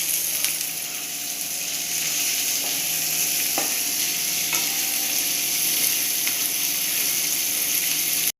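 Vegetable stir-fry being stirred in a pan, a loud continuous sizzle close by with a few light scrapes and taps of the spoon, no speech.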